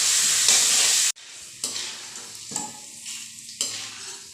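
Green peas sizzle in a kadhai on low flame after a salt and turmeric solution goes in, a loud hiss at first, then softer frying crackle with several sharp stirring scrapes.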